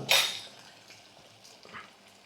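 Half a tablespoon of cumin seeds dropped into a hot pan of green chilies, a sharp, bright sizzling burst at the start that quickly fades to a faint crackle, with a light clink later.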